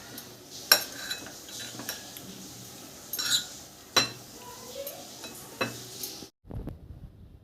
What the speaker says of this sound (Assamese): এইখিনি আমি ভালদৰে মিক্স কৰিব লাগে।